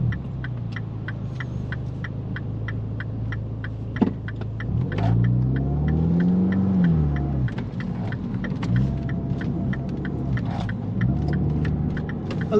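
A Mini Cooper S (R56) drives at low speed with a steady engine rumble and hum, rising briefly as it pulls away and accelerates past a roundabout, with faint clicks from inside the cabin throughout.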